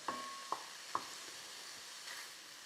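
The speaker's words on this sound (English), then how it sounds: "move these mushrooms around so they all get some of that on there and coat them really nice" Mushrooms in balsamic sizzle faintly in a pan, with a few soft stirring clacks early on and a quiet, steady frying hiss throughout.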